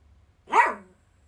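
A single short, sharp dog bark rings out once at close range, rising and falling quickly before near-silence returns.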